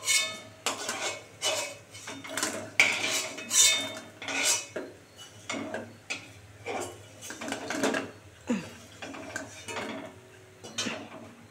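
Fried lentil dumplings lifted one by one from a pan, giving a steady series of metallic utensil scrapes and clinks against the pan, roughly once a second, close and moderately loud with no talking.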